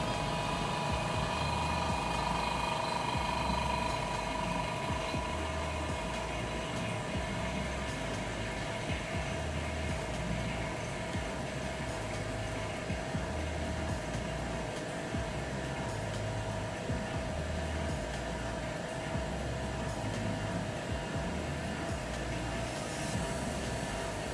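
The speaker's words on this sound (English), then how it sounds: "When you set up the laminator, close the gates. Switch on the machine." A laminator machine runs during iPhone X screen glass repair, giving a steady, continuous mechanical hum with a constant tonal whine that lasts unchanged throughout.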